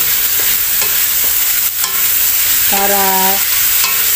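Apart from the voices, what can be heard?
sautéing chicken in a pan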